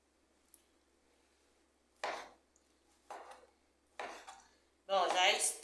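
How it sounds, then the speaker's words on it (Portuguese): A knife chops bacon and calabresa sausage on a board in a home kitchen, landing as four separate cuts about a second apart, each a little louder, close by with quiet in between. "Aí eu vou cortar ele agora."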